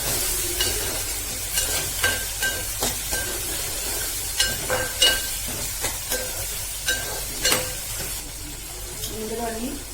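Tomatoes sizzle steadily in a pan while a utensil stirs and scrapes them with regular light clinks, in a close, continuous home-kitchen fry.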